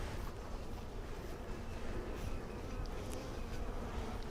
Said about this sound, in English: it's always hard to get the last bees off, but the bee brush does help.